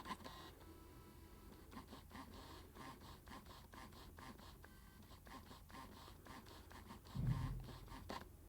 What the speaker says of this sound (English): It's not this camera can't autofocus. First of all, it sounds like a fax machine.